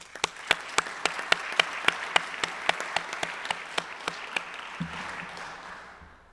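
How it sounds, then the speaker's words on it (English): A room at a Rotary Club of Cincinnati meeting gives a round of applause: a steady, evenly paced run of about twenty distinct claps, sharp and fairly close, fading out after about five seconds. "Let's give Ken a round of applause, too"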